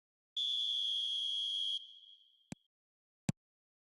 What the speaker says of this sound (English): There's the whistle, and here we go.